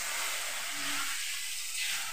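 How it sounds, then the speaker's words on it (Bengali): Potato, pumpkin, pointed gourd, ivy gourd and okra fry in a home kitchen with a steady, bright hiss of oil. The sizzle stays constant and fairly loud throughout, with no voices. "তুমি শুধু ভাজা হচ্ছে।"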